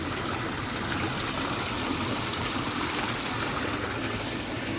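Water flows steadily in a park, a continuous broadband rush like a fountain or cascade, close and even throughout with no talk and no breaks.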